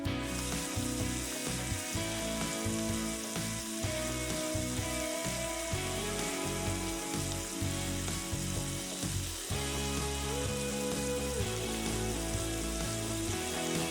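Osso buco dredged in flour sears in a pan on commercial kitchen equipment, a steady close sizzle and crackle of frying meat running alone throughout with music-like tonal layers underneath.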